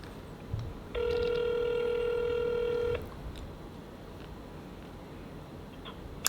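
A telephone tone sounds once as a steady held beep of about two seconds, fairly loud and close, over quiet room noise, with no ringing repeats.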